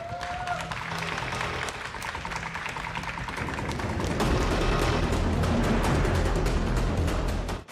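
Audience applause fills the hall at a FIFA Online 3 championship esports quarterfinal, steady clapping that swells louder and denser midway and holds to the end, with no voices over it.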